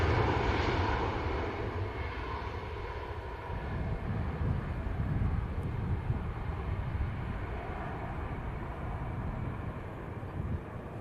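A Ryanair airliner climbs out of Manchester Airport, bound for Paris, with its gear going up. A loud, steady jet engine roar and broadband rush hold throughout, easing slightly as it recedes.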